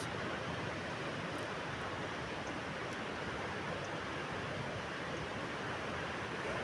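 Sea waves crashing on rocks, a constant broadband roar of surf heard steadily without distinct breaks, fairly soft overall.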